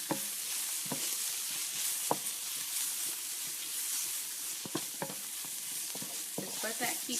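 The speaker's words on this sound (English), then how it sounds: "I'm going to give it a quick stir, and just let that keep cooking" Food cooking in a small pat of butter in a pan, a steady close sizzle running throughout with a few scattered spoon scrapes and clinks as it is stirred.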